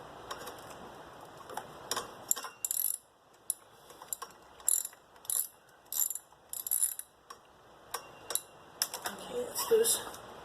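A ratchet clicks in quick bursts while loosening 10mm valve cover bolts on a 2004 Mitsubishi, with repeated close rapid pawl ticking separated by short pauses and a voice speaking between.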